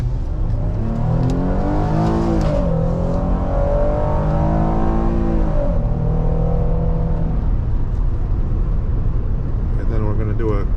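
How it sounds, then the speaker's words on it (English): A 2015 Ford Explorer Police Interceptor Utility with all-wheel drive accelerates hard from inside the cabin, engine pitch climbing through rising gear sweeps over a loud steady road rumble. "It grabs from all four tires and accelerates you to the speed you need to go."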